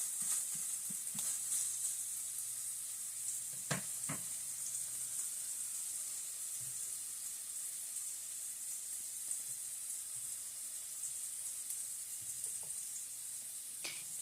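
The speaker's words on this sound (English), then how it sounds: "And stirring the ground turkey around some more, which is pretty much just about done." Ground turkey sizzles quietly in a pan while being stirred, a soft continuous frying hiss broken by a few sharp scrape and clack sounds from the utensil, with no talk.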